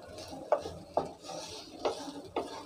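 Semolina stirred in a pan over very low heat: soft scraping strokes recur every half-second or so, each with a faint gritty rustle, close and quiet with no voices.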